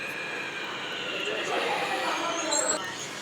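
Hyderabad metro train running between Begumpet and Ameerpet, a steady rumble and hum of the moving carriage with faint high squeals, heard from inside at moderate level.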